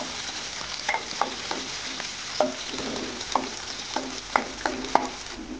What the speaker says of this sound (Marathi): लसूण आपल्याला छान तेलामध्ये फ्राय होऊ द्यायचं आहे.